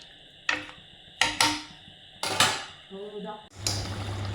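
A metal pressure cooker lid is closed over goat trotter paya: several sharp, close metallic clanks and scrapes in quick succession, then a steady rushing hiss.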